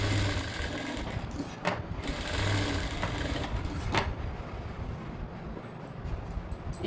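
A sewing machine runs a reverse-stitched shoulder seam on a high-neck blouse, giving a steady, close, continuous motor whir with a few brief changes in pitch.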